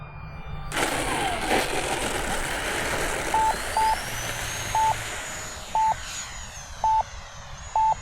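An E-flite Viper 64mm EDF RC jet spools up to full throttle with a sudden loud, broad ducted-fan roar and a rising whine, while repeated short electronic beeps sound over it.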